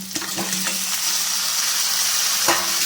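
Mutton hits a pan of spices and tomato, a loud close sizzle that swells and holds steady, with a few scraping clicks early on and another near the end.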